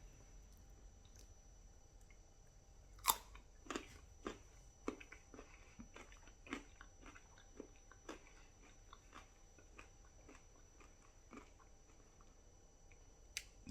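Crunchy bites into a carrot stick dipped in kiwi dip, a series of sharp, close crunches and chewing sounds spread irregularly over quiet background.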